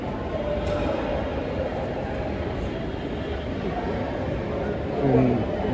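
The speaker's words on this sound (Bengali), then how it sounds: "ট্রেন প্রায় চলে এসছে" A metro train approaching a station platform, a continuous loud low rumble and roar of rolling stock building slightly near the end, with a faint squeal and a brief voice at the close.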